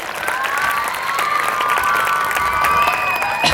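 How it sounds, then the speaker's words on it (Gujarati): Steady audience applause fills a Gujarati stage show, dense and continuous with some cheering mixed in, holding at an even level throughout. "એકવાર એમના માટે જોરદાર તાળીઓ."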